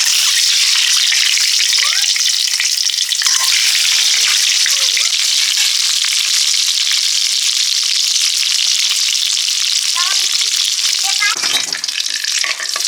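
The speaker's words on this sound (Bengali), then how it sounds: "এবারে ডিমগুলো হালকা ভেজে নিচ্ছি।" Country eggs frying lightly in hot oil in a Bengali home kitchen give a loud, steady sizzle that runs without a break, with the occasional stir or scrape of the pan over it.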